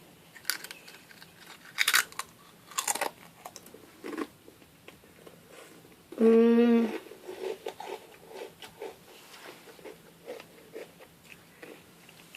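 Someone bites into a hot spicy Sun snack chip: a few sharp, close crunches, then quieter chewing and crackling in a quiet room, with no talking.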